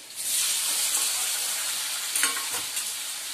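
Potato pieces frying in a hot pan with green chillies and curry leaves, giving a steady, loud, close sizzle with a few stirring scrapes near the end.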